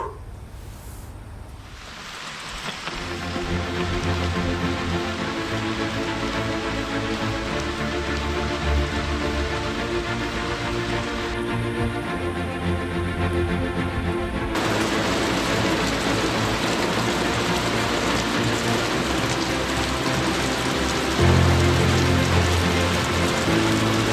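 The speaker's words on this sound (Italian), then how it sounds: "Adesso piove forte" Heavy rain pours steadily and loudly in Hokkaido, Japan, a dense continuous hiss of drops drumming on a surface with no voices.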